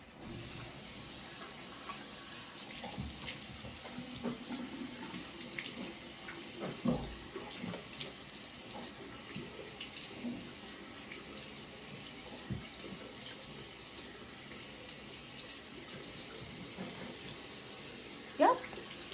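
Water running steadily from a sink tap during a face wash in a night skincare routine, a continuous close splashing hiss with occasional louder drips and knocks, no talk.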